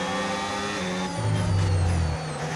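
An F1 car engine in a racing video game revs high and strained between gears, a buzzing tone that drops and swells into a louder, lower surge mid-way before settling, no talk.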